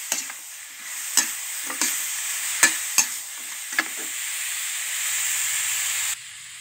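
Pork bones stir-frying in a pan over low heat, a continuous sizzle and hiss broken by several sharp scrapes and clacks of the spatula, close and fairly quiet.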